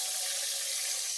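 Cold tap water runs steadily from a faucet into a pot of drained boiled eggs, a soft continuous splashing hiss that stays even throughout, with no one speaking.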